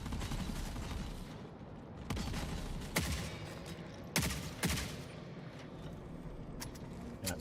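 Turret gunfire in the video game Forever Winter, sharp distinct shots rising out of a constant rumbling battle background, several spaced reports, fairly loud.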